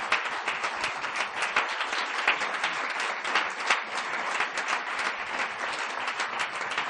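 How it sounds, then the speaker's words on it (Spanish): A room of people applauding for a shy photographer called up at a book presentation, dense continuous clapping from many hands at an even level throughout. "os pido un aplauso para él"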